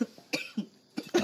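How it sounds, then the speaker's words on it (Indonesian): A person coughs in four short, close bursts, evenly spaced and moderately loud, with no talk around them. "Kamu batuk-batuk. Ini batuk-batuk."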